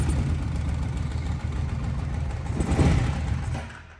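A Kawasaki KFX700 ATV engine with low compression runs steadily after starting, a loud, close, low rumbling idle with a brief swell near the end before it fades slightly.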